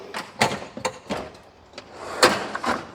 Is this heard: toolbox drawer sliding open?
yes